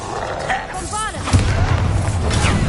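A Bombarda explosion spell goes off in a Hogwarts video game: a deep booming roar breaks out midway and rumbles on, with an earlier whooshing magical sweep and a voice in the mix.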